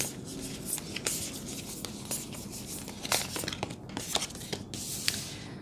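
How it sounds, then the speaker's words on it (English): Tarot cards shuffled by hand, a soft, irregular stream of papery riffles and slaps at close range, with sharper flicks every half second or so and no talking. "As I shuffle the cards,"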